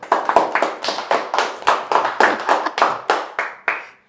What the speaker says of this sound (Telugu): క్లాప్స్ కొట్టరు మరి షురూ చేసిన.